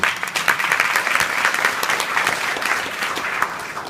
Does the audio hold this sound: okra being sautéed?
no